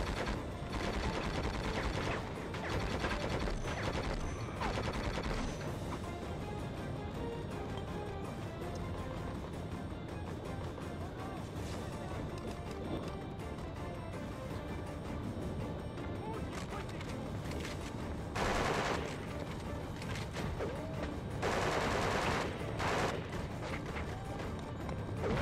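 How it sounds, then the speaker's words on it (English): Gunfire aimed at the player in Conflict: Desert Storm 2 on the PS2, steady crackling volleys and bursts of shots running through the whole stretch at a fairly low, distant level, with occasional louder crashes. "Who is shooting me from over there?"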